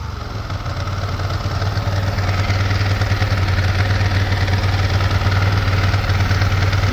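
A 2002 Ducati ST4s motorcycle engine running at a steady fast idle around 1,000 RPM, close and loud, with a throbbing low pulse and mechanical clatter holding evenly throughout.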